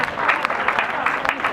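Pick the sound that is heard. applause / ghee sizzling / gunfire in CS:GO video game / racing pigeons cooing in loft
applause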